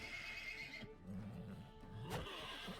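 A horse neighing in the video game Wartales, a clear whinny amid a faint hum of game background, quiet and close with no talk over it.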